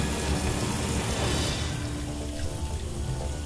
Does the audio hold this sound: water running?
yes